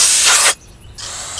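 G2 caliper paint kit cleaner sprayed from an aerosol can, a loud close hiss lasting half a second, a brief pause, then a second hissing burst.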